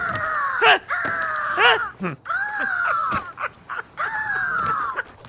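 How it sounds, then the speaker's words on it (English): Harsh, drawn-out bird calls repeat in a string of loud, wailing caws, close by and overlapping, with brief gaps between them. "the bird sounds are killing me"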